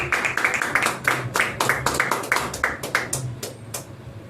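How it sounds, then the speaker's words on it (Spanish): A congregation at an evangelical church service claps for Christ in a loud, rhythmic burst of applause, many hands striking in a roughly regular beat, close and full, with some low voices underneath. "Dale un fuerte aplauso a Cristo la gloria"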